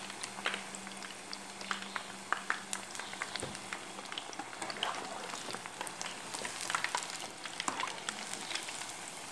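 Kibbeh made with raw meat sizzles and crackles steadily in hot oil, a soft continuous frying hiss with scattered pops, quiet and unbroken.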